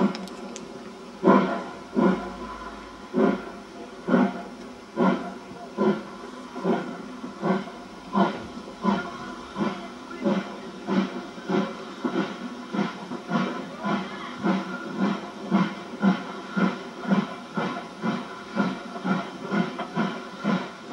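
A steam locomotive at Oxford station chuffing with rhythmic exhaust beats that start slow and quicken steadily, over a continuous hiss of steam, loud and close.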